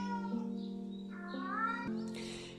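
A house cat meows several times in a row, close and clear, with drawn-out rising and falling calls over a quiet indoor background during a tarot reading.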